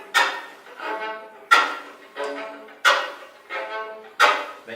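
Bowed string instrument played with the percussive chop technique at a faster tempo: sharp scratchy bow strikes alternating with short pitched tones in a steady repeating rhythm, close and clear with no talking.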